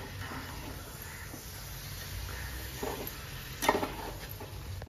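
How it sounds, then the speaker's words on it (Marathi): Prawns dropped into a hot spice tempering in a home kitchen, a soft continuous sizzle and stirring with a brief clatter of utensils near the end. "आता कोळंबी टाकली त्या फोडणीमध्ये"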